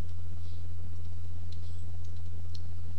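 Light keystrokes tap out a command on a computer keyboard, a few scattered soft clicks over a loud steady electrical hum, no voices.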